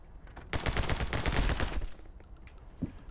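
An Uzi in the action game My Friend Pedro fires one loud, rapid automatic burst lasting over a second, then the sound drops back to quiet background.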